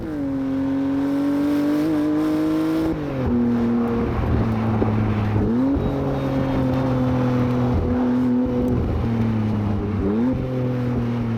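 A Maserati MC20 sports car drives on the road, its engine droning loud and close with rising and falling revs as it shifts through gears, with steady road and wind noise beneath.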